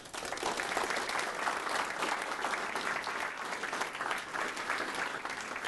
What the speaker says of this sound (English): I want everyone to give him a huge round of applause.